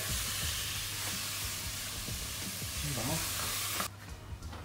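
Chicken sizzling steadily in a pan for Charlie Chan pasta, a dense close hiss with a utensil stirring and scraping now and then, and a brief voice mid-way before the frying sound drops off near the end.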